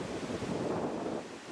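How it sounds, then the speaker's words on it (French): The Neda waterfall in the Peloponnese gives a steady, broad rushing roar of falling water. It is loud and continuous, with wind buffeting the microphone. "Alors voilà la cascade."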